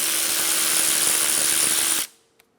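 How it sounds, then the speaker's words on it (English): An impact or power tool spins out the 12mm bolt on the e-brake bracket of a 2013-2017 Honda Accord during rear brake work. A loud steady whir runs for about two seconds, then cuts off, followed by a faint click. "Remove the 12mm bolt for the e-brake bracket."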